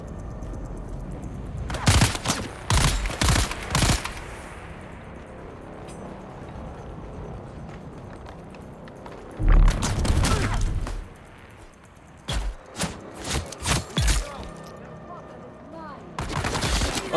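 Heavy gunfire from a big gun in the survival video game Dune, coming as loud bursts of shots that are spaced out across the stretch and separated by quieter gaps.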